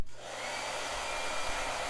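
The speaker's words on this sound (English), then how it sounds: "ready for a blow dryer?" A blow dryer runs steadily as a loud, continuous airy roar with a faint low motor hum, close and uninterrupted, no voices.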